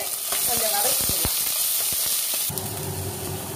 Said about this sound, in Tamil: வெங்காயம், பச்சை மிளகாய், இஞ்சி இது மூணையும் போட்டு கொஞ்சம் வதக்கிக்கலாம்.